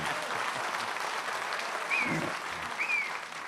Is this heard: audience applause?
yes